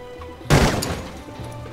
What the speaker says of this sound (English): I got to shoot a lock